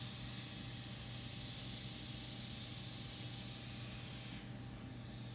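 Continuous soft hiss of a facial machine's fine mist spray rinsing the face, steady and close with a slight change in tone near the end, no talking.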